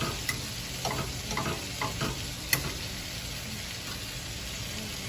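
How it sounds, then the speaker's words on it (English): Shrimp sautéing in a hot pan gives a steady close sizzle throughout, with a few light scrapes and clicks of stirring on top. "just gonna saute it a little bit"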